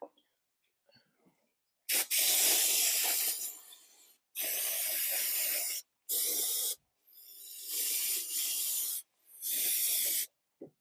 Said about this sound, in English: Just using brake cleaner to clean it.